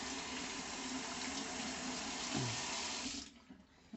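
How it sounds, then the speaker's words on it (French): Tap water runs steadily into a sink as a piece of apple is rinsed under it, a continuous close splashing flow that cuts off near the end, leaving a quieter drip-like tail. "On doit retourner pour aller rincer le morceau de pomme."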